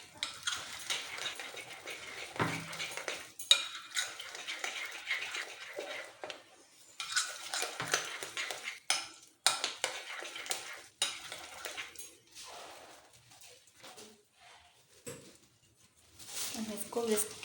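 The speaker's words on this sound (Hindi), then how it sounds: "मैं इसको विस्क की मदद से इसे मिक्स कर लूँगी कि अच्छी तरह से मिक्स हो जाए।" A whisk beats thin pakora batter for green chilli fritters in a bowl. Quick scraping and tapping strokes come in bursts with short pauses, and a voice talks at times.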